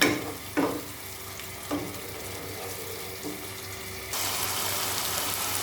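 Minced meat being stir-fried with spices for kima ghugni: a steady sizzle with a few scraping stir strokes, then a louder, brighter frying hiss in the last second or so.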